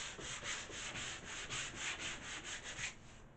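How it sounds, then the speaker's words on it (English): A pool table being sanded with 150-grit sandpaper, a steady, close abrasive rubbing in even back-and-forth strokes that pulse rhythmically, with no talking. "I'll rough it up with 150"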